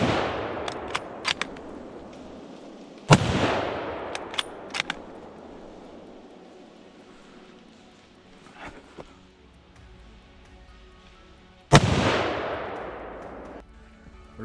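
A rifle fires at a wild boar during a driven hunt, two sharp loud shots about nine seconds apart, each decaying into a long rolling echo across open ground, with faint clicks and rustles between.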